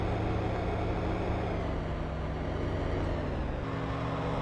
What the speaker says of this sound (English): It's a very deep engine sound.